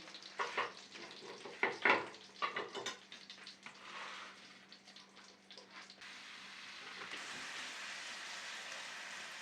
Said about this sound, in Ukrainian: Цю саму олію з маслом додаємо цибулю